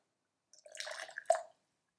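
Hot water at about 95 degrees Celsius is poured into a porcelain gaiwan to preheat it, giving a short, close trickle and splash of liquid with a brief drip near the end. There is no talk during the pour.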